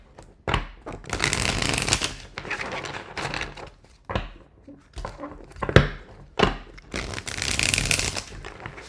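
Tarot cards shuffled by hand for a reading, crisp riffling bursts and soft slaps coming in uneven spurts close to the listener, with quiet pauses in between.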